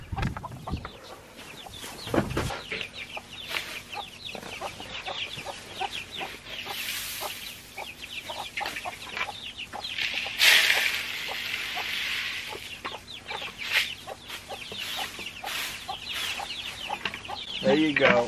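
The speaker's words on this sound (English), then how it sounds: "I forgot to give the chicks some more food this morning." Young chicks cluck and peep busily while being given food, a lively, near chorus of overlapping calls with rustling and scratching throughout.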